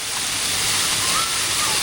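Steady, full-bodied rush of falling water, loud and continuous, like standing close to a waterfall in Colombia.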